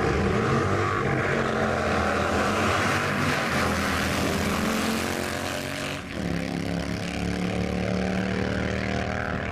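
Harley-Davidson motorcycles drag racing at Back Beach drags in Bunbury, a steady loud engine drone running throughout with a brief dip near the end, no talk.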